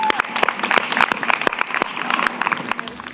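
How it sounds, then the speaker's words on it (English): A school event audience breaks into applause at a New York City announcement, sharp separate claps scattered through a steady round of clapping lasting a few seconds. "let's give Al Van a round of applause for that"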